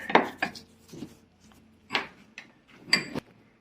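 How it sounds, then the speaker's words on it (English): A bearing pressed into a 3D-printed part in a bench vise for an electric unicycle, heard as a few sharp clicks and knocks of metal and plastic with dull cranking taps in between, close and fairly quiet. "Just grab a bearing, the printed part, put it in the vise, crank it around, and it just pops straight in."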